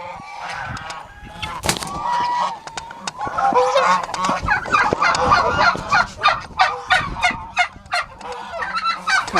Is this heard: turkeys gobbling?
yes